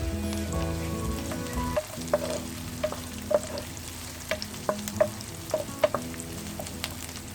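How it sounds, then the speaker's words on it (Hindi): Whole spices for white chicken biryani, bay leaves, a cinnamon piece, green and black cardamom, stirred in hot oil: a steady sizzle with a spoon scraping and tapping against the pot in irregular close strokes. "अब इसमें डालें 2 तेजपत्ते, 1 दालचीनी का टुकड़ा, 2 छोटी इलायची, 1 बड़ी इलायची। इसको अच्छी तरह से मिक्स करें"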